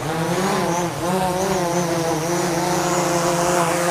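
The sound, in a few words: very strong wind while flying a drone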